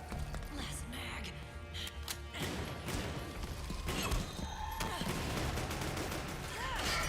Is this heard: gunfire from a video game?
yes